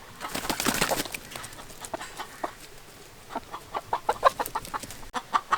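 Six newly bought, skittish hens cluck and squawk in short, irregular bursts on a farm, fairly close, with a busier flurry at the start and scattered calls later.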